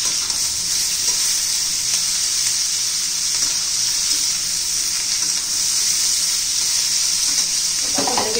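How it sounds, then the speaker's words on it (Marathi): Capsicum sizzles steadily in hot oil with onion in a pan, a loud, continuous close-up frying hiss with no talking. "त्या तेलामध्ये आपण आता मस्त अशी फ्राय करायची शिमला मिरची."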